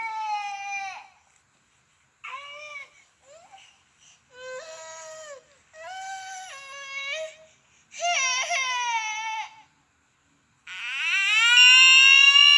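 Recorded baby cries played back near a sound sensor, a series of separate wailing bursts with silent gaps between them, thin and somewhat electronic, the last cry the loudest and longest.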